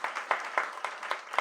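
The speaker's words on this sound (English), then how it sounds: "give yourselves a round of applause" Audience claps after a group reading, a brief and fairly faint patter of applause with individual claps distinct.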